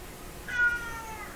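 A house cat lets out a single clear meow, short and fairly close, against a quiet room hum.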